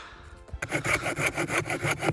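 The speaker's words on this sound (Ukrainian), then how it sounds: "Поки що ця пила справляється прям дуже непогано." A saw cuts through a wooden log outdoors in a frosty Carpathian forest, starting abruptly after a brief pause and then rasping in steady rapid back-and-forth strokes, close and loud with no talking.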